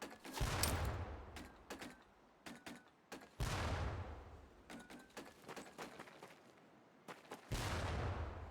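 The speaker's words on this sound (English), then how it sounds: "Pull the pin and let them fly. See if you can hit some of those barrels out there." Training grenade explosions in the game Medal of Honor: Pacific Assault, a rapid series of loud booming blasts with crackling debris, several bursts following one another over a few seconds.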